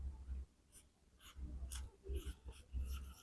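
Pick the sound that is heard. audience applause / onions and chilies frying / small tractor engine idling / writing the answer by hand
writing the answer by hand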